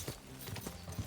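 Horse hooves clip-clop in the video game Kingdom Come Deliverance 2, a steady rhythmic walking pace of soft thuds heard alone at moderate volume.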